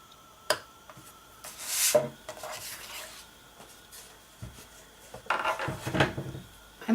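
Cardstock is scored on a scoring board with a tool, giving a few short scraping strokes and light taps, quiet and close, with no talking.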